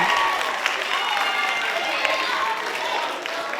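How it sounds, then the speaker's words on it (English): An audience applauds and cheers for an award recipient at a spoken word event, loud continuous clapping with crowd noise and voices mixed in. "Round of applause, guys."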